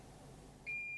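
A multimeter set to continuity gives a single clean, steady electronic beep while testing a bicycle light wire, starting abruptly near the end after quiet background hiss.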